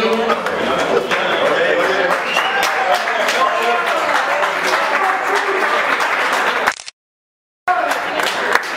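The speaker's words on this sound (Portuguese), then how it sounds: "Salve palmas para a vencedora do quadrante feminino." Applause at a women's darts league final awards event, a crowd clapping loudly and continuously with a voice speaking over it, cut briefly by a gap of silence before clapping resumes.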